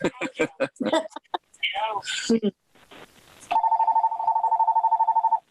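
A telephone rings with a telemarketer call, a rapid electronic trilling ring lasting about two seconds. It comes right after a stretch of people talking.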